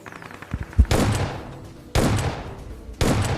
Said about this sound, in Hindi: इसको 2 शॉट शॉटगन के दे दिया था